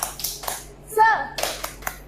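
Children in a classroom doing a 'tepuk semangat' rhythmic clap led by a teacher, a patterned sequence of clap bursts with a voice calling out in between.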